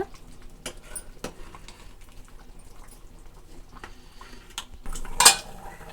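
A spoon stirs green peas curry in a metal pot, making soft scraping sounds and scattered light clinks, then one sharper metallic knock near the end.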